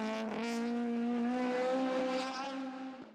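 A Peugeot 205 GTI rally car's engine holds a steady, loud drone at a hill climb, then fades slightly near the end.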